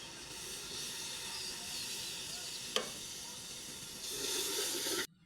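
Spices frying in a pan for an iftar biryani, a steady close sizzle and hiss with a brief scrape partway through, swelling louder near the end before cutting off.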